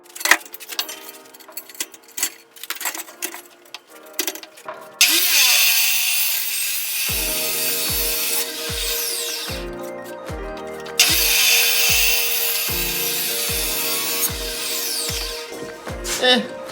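A power tool cuts through a metal pipe while building an industrial toilet paper rack, a loud sustained whine in two long passes separated by pauses, with sharp clanks and knocks between them.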